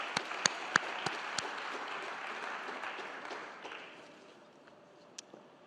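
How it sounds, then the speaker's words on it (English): Audience applause at a food security workshop summit as winners leave the stage, a moderate spread of clapping with a few sharp close claps, tapering off toward the end. "One more round of applause as they go off stage."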